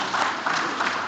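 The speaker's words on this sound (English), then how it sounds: "Big round of applause to them." A conference plenary audience briefly applauds the panelists, a short burst of many hands clapping together at an even level.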